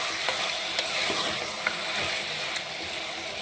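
Gongura mutton stirred in a frying pan, a steady broadband sizzle with scattered scraping clicks of the spoon against the pan, close and continuous, no voices.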